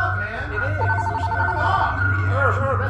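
A telephone rings in a short burst of rapid trills, moderately loud, under ongoing talk and a steady low hum.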